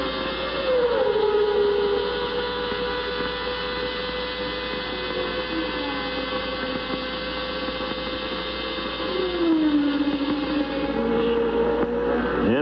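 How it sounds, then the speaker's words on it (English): A 1990 Formula 1 V10 race car screams along the front straight at the Mexican Grand Prix, holding a high, sustained whine with brief pitch drops at each upshift before climbing again; loud and continuous. "Just listen to the sound of this V10."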